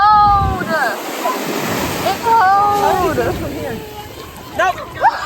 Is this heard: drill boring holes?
no